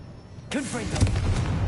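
A Confringo blasting spell from the video game Hogwarts Legacy bursts suddenly after a short quiet lead-in, a bright whooshing blast with a falling swirl, followed by rumbling crackle that lingers under faint background noise.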